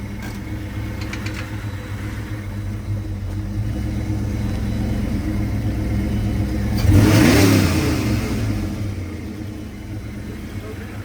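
The engine of a Fox-body Mustang project car rumbles as the car rolls forward to test the transmission, a steady low drone that swells into a brief rev partway through, with people talking over it.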